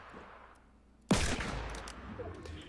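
A loud revolver gunshot from a video game, a sharp single blast landing a headshot, followed by a decaying echo and scattered after-sounds.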